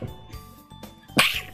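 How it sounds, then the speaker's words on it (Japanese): A single short sneeze bursts out near the end, close and sharp, after quieter background sounds and breathing. "あ、くしゃみ。"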